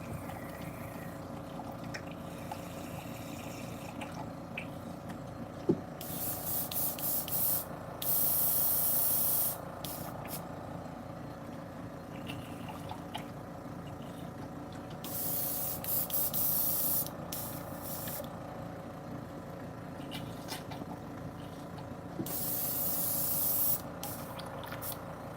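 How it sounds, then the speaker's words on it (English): An airbrush is being cleaned, letting out several sharp, close bursts of hissing spray separated by quieter pauses and a faint background hum. "All right, clean the airbrush."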